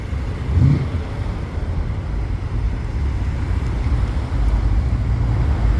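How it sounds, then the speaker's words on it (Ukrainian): A car drives along a road in White Rock, Canada in spring, a low, broad rumble of tyres and engine that swells gently, with wind buffeting the microphone and no speech. "Ось там далі їде машинка"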